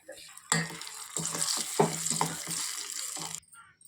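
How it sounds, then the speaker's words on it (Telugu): Ridge gourd chutney stirred into a hot, sizzling tempering of spices and curry leaves in a pan, with a broadband crackle and several scraping stirs over about three seconds, close and fairly loud, no talk. "ఇప్పుడు ఈ తాలింపులో మనం సిద్ధం చేసుకున్న పచ్చడిని వేయాలి"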